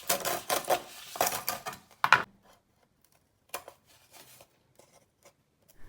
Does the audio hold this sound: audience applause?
no